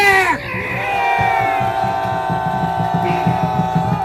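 Crowd at an outdoor political rally in Gwanghwamun Square roaring with shouts and cheers, a loud sustained collective yell that swells after a brief opening call and holds strong to the end.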